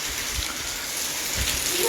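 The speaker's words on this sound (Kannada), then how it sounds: "ಮಳೆ ಬರಾಕತ್ತ ನೋಡ್ರಿಪ್ಪ" Rain beginning to fall in Hebballi, a steady close hiss of drops hitting surfaces, constant across the short stretch.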